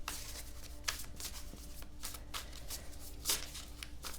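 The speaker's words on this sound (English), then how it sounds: "And we're just going to get the rest of the cards out." A deck of tarot cards is shuffled and handled at close range, quiet papery riffles and slides with a few sharper snaps between them.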